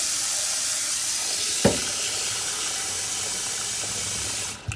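Cold tap water poured into a pot over eggs, a steady hissing rush of running water close by, with a brief clunk partway through and another knock at the end.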